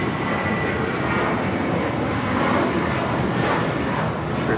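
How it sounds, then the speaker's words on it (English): Spirit Airlines A320 taking off from LAX, bound for Louisville: a close, loud, continuous engine roar, steady and unbroken for the brief span, with no talking. "This is Spirit Airlines 2567 taking off to Louisville on an A320."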